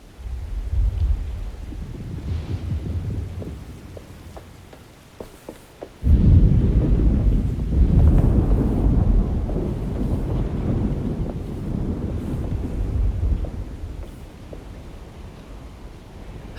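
A thunderstorm with rain from the video game Alone in the Dark: steady rain and low rumbling thunder, swelling into a loud, heavy roll midway before easing back to a continuous wash of rain.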